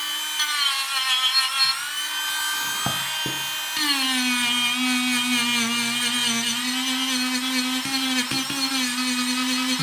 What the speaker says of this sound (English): let's polish this metal.